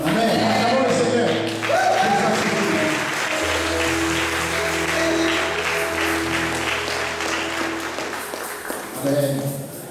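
A church congregation applauds, and the clapping runs continuously under a voice speaking and singing tones over it.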